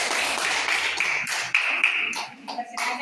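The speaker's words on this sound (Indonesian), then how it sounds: "Kita berikan aplaus untuk kelompok 1" Students in a classroom give a short round of clapping for a group, a light patter of hands that is moderately close and thins out toward the end.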